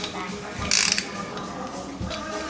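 Ratchet tightening bolts on the top end of a Yamaha PW80 motorcycle engine during a rebuild, giving a close burst of quick mechanical clicks followed later by a shorter click, with no talking.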